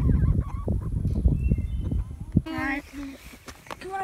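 Loose farm poultry calling in a yard, a nasal honking cackle rising over steady talk and outdoor movement in the second half, with a voice speaking throughout.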